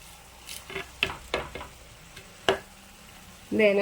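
A spoon stirs spice powders into sautéed tomatoes in a pan for a prawn curry, making several separate scraping strokes over a soft sizzle, and a brief voice comes in at the end.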